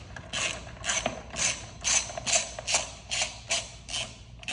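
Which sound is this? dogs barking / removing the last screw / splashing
removing the last screw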